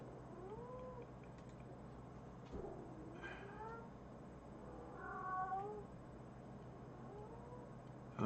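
A cat meows a few times in a quiet indoor room, rising and falling wails in short bursts under a steady background hum, with a voice briefly audible nearby.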